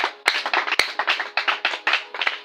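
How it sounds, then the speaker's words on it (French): A church congregation claps in praise of God, a steady run of rhythmic handclaps in quick succession, close and lively, with no talking over it. "On acclame encore pour la gloire de Dieu."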